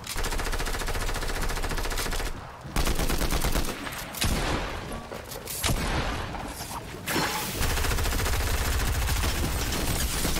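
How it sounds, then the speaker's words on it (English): Sustained bursts of rapid automatic fire from a combat assault rifle in a shooter game, loud and close, with short pauses between long strings of shots and no talking. "I'm gonna try to get some shots in maybe over here. This AR."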